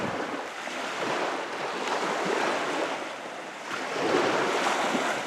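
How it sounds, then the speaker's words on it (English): Ocean waves washing onto a beach, a steady broadband surf roar that swells and eases over a few seconds, with wind buffeting the microphone and no talking. "we are down at the beach"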